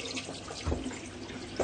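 Tap water running during forearm washing with neutral soap, a soft continuous trickle and splash with a couple of brief louder splashes, quiet throughout and with no voices over it.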